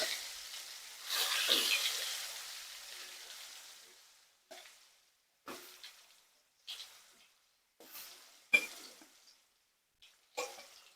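Potatoes drop into hot oil with a loud burst of sizzling that gradually dies down, followed by a series of shorter sizzling bursts as more pieces are added, each fading quickly.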